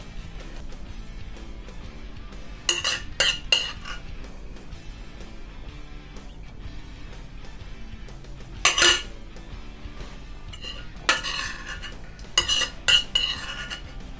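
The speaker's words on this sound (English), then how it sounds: "I'm going to fold some nice chopped parsley through my sauce." A spoon folds chopped parsley through a beef chasseur sauce in a pan, with several bright clinks and scrapes of metal against the pan in short bursts over a steady low background hum.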